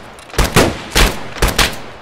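Video game gunfire, a few loud, close bursts of shots in two quick pairs, with no voices over them.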